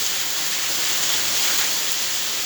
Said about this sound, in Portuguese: Agora está chovendo, quero mostrar para você